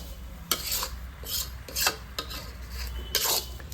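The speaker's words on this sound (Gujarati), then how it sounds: "અડદનો લોટ શેકી લઈશું ધીમે ધીમે હલાવતા જઈશું" Urad flour being roasted gives off repeated scraping and rasping strokes as it is stirred against the pan, a steady close-up rhythm of rubs with no talk.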